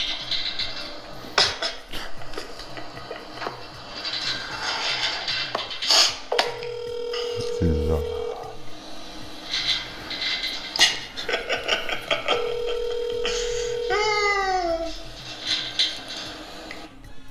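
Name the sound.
telephone tones at the end of a phone call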